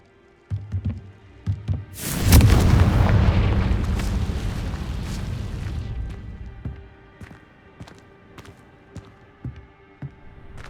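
A fiery Confringo spell blast in Hogwarts Legacy erupts as one loud, close boom with a long rumbling tail, after a few small pops and before scattered light ticks as it fades.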